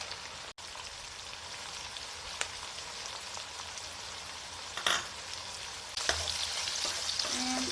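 Baby squid stir-frying with onion and carrot in a hot pan, giving a constant sizzle with occasional clacks of utensils stirring, fairly quiet and with no voices.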